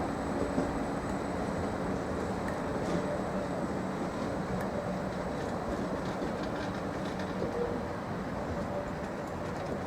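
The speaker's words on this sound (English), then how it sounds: "745106 is performing a stop move out of the sidings." Train 745106 pulls slowly out of the sidings at Norwich Station with a steady low rumble and a faint clatter of wheels over the rails, continuous and moderately distant throughout.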